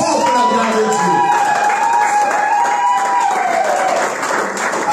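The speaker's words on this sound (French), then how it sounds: "Si tu es un champion, applaudis très fort pour la gloire" A church congregation at a Sunday worship service applauds loudly, a dense, steady wash of clapping that fills the room, with sustained musical tones running through it.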